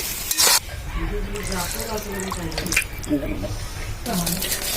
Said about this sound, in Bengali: আর দিয়ে দিব এখন জল